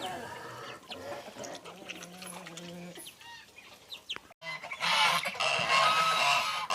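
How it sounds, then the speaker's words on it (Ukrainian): Farmyard birds honking and cackling, with nasal calls of young geese rising over a busy poultry yard; the last few seconds turn louder and noisier. "Гусечки вже гарно підросли, це вже вони поїли, хочуть, щоб я відпустила їх попастися"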